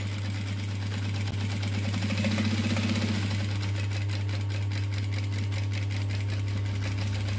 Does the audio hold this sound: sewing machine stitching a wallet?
yes